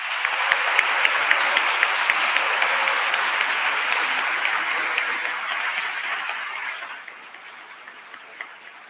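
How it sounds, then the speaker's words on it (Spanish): Audience at a school debate competition final applauds steadily for about seven seconds, dense clapping that then thins to a few scattered claps. "Os merecéis aplausos"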